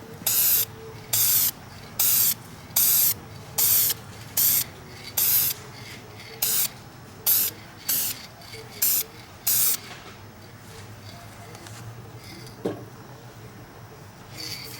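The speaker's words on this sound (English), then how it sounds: "Going to spray this on the bottom section." Quick hissing spray bursts come in a regular series, close and fairly loud, then stop, leaving quiet room noise.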